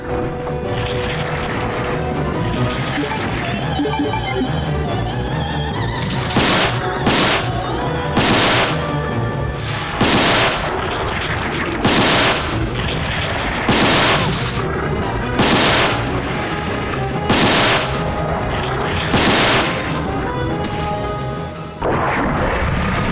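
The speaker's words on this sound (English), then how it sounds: "You're telling me that a rocket launcher in Resident Evil doesn't one-shot a boss?" Rocket launcher fire against a boss in Resident Evil 2: a series of about nine loud, sharp blasts at irregular intervals, heard over constant dense game music.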